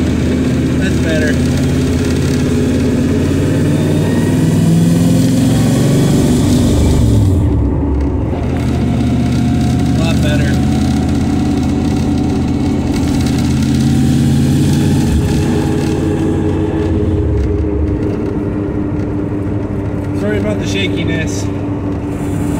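A small block Chevy 383 stroker V8, just after valve adjustment, idles and revs loudly and steadily throughout, with a deep rumble that rises and falls across the whole stretch; a person talks over the engine.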